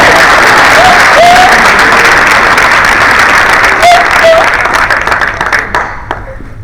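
A large audience at a Congressional Black Caucus Foundation event gives a round of applause for a team. The clapping is dense and loud, holds steady for several seconds, then thins and fades at the end.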